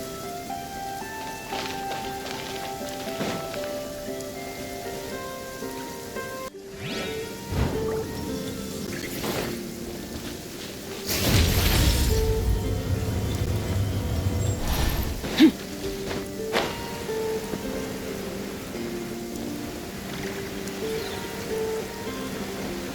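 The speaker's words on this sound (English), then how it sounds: "I like the rain." Rain falls steadily in the video game Genshin Impact, a continuous patter under layered game music and effects, swelling louder for a few seconds midway.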